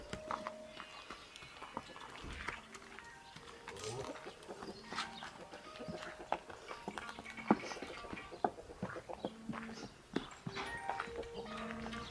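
Horse walking with hooves clip-clopping in an irregular, unhurried rhythm, close and moderately loud, with faint outdoor background and occasional distant bird sounds.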